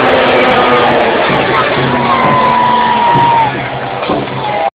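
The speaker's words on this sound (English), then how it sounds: "a big cheer please for Dredicor" Arena crowd at a gladiator games event in London's Guildhall cheers loudly and steadily, with whoops and shouts layered over a continuous roar that dips slightly near the end.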